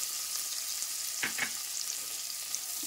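Onion pieces fry in a pan for green peas soup, giving a steady bright sizzle throughout with a couple of brief stirring scrapes in the middle and no voices.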